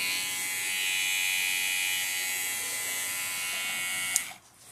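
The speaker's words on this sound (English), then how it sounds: "The motor sound nice, quiet, not loud." A Suprent Black Scorpion hair clipper motor hums in a steady, close, fairly quiet buzz before clicking off near the end.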